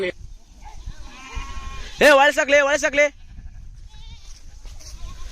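A sheep gives one loud, wavering bleat near the herder, lasting about a second amid outdoor grazing, with a voice speaking just before it.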